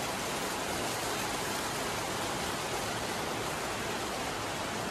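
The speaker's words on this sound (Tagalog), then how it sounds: "Yung weather ngayon, medyo maulan na." Rain falling outdoors at night at the start of the rainy season, a dense, steady, even hiss of downpour throughout with no voices.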